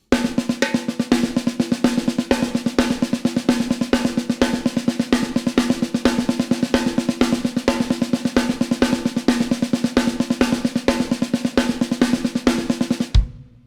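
A drum kit plays a steady, rapid paradiddle sticking pattern of even hits with recurring accents, continuous and loud, ending with a final crash.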